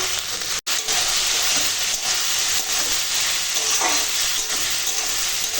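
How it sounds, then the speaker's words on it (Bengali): Young ash gourd stirred in a small amount of oil in a pan, a continuous loud sizzle and hiss with soft scraping of the stirring, broken by one brief pause. "এবার চাল কুমড়োকে এইভাবে নাড়ি নাড়িয়ে শুধু রান্না করে নেবো"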